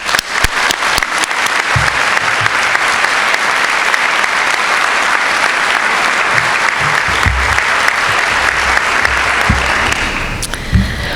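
A commencement audience applauds to welcome the speaker, sustained loud clapping from a large crowd that holds steady for about ten seconds before tapering off near the end.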